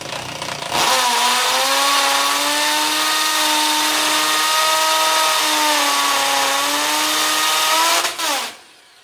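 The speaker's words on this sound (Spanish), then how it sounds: "Nos ponemos en el centro y taladramos." A power drill with a number 6 bit bores a hole into a wall for a TV mount, one steady high-pitched whine running about seven seconds at close range before spinning down.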